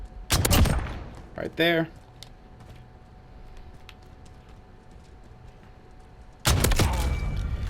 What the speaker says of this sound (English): Let's break out one of those slug shotgun builds